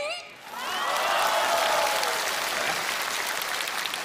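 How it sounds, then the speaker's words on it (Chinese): Audience applause at a CCTV Lantern Festival Gala crosstalk performance, a burst of clapping swelling up after a brief voice and holding steady and full for several seconds. "这您还给鼓掌呢？"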